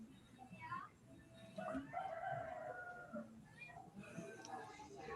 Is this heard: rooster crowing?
yes